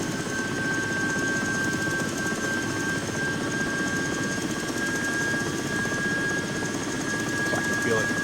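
A Mil Mi-2 helicopter lifts off in X-Plane 11, its engine and rotor giving a steady, loud broadband roar with a constant high whine throughout.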